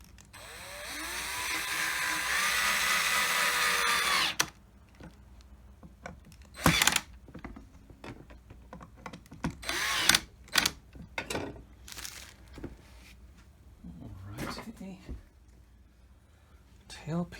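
A power drill driving a screw while a Gibson-style short Vibrola tailpiece is fitted to a guitar, heard as a few short whirring bursts between pauses, close by and mixed with handling noise and a person talking.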